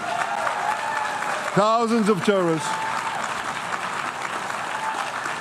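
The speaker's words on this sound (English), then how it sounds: "men from the Israeli delegation who are trying to clap as loudly as possible" A small group of Israeli delegation men clap as loudly as they can in the UN General Assembly hall, steady applause joined by a brief voice partway through.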